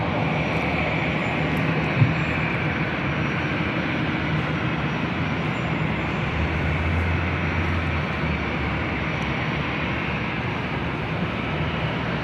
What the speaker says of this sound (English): another Delta A320, flight 1049, will be taking off to Denver